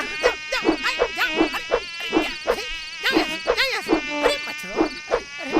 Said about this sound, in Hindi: अरे मच्छरों, अरे परेशान करके रख दिया मच्छरों तो।